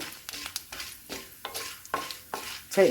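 Fenugreek and coriander seeds frying in a pan for a curry-leaf chutney, a close, soft sizzle broken by repeated scraping stirs and light clinks of the spoon against the pan.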